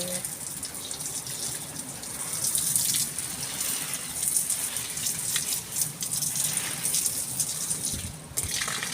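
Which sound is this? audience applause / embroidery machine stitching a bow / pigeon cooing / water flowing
water flowing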